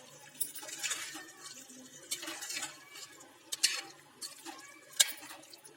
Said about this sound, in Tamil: நல்லா தயிரை கலந்து விட்டுக்கலாம்.